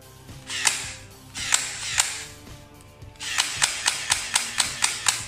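Mechanical clicks and whirring bursts from an SKD Beretta 90TWO gel blaster, a few spaced single shots followed by a rapid run of sharp snaps, close and moderately loud.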